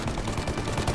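Dense, continuous gunfire from a Mafia Definitive Edition farm gunfight, a loud, nearly unbroken burst of rapid shots with no pauses.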